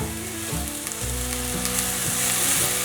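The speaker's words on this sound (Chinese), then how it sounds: "现在放入红喜菇， 慢慢的翻炒" Celery and red mushrooms stir-fried in a hot pan give a steady, close sizzle and crackle of frying, with a few soft scrapes as the food is turned. No one speaks.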